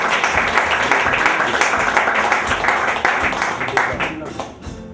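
An audience at a school graduation ceremony gives loud, sustained applause and acclamation for the pastor, dense clapping with cheering voices mixed in, tapering slightly at the end.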